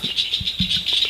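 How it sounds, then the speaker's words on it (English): A red-winged blackbird passes by in a wetland refuge, giving a few quick high chirps close at hand against a faint steady background hum. "There was a red-winged blackbird that just went by"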